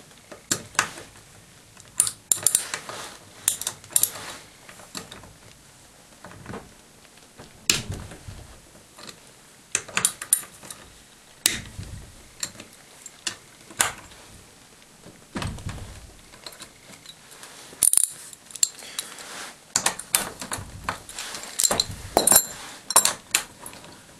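The turret assembly of a Lee Pro 1000 progressive press is taken off with a half-inch socket, heard as a long series of close metallic clinks, ratchet clicks and taps in irregular bursts, with no talking.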